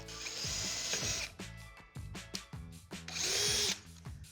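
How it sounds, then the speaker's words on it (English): A power drill whirs in repeated short bursts while drilling pilot holes for a Delta Classic 500 curve shower base, spinning up and stopping several times, close and loud, with no talking. "let's go ahead and drill our pilot holes at each one of the reference marks that we made earlier"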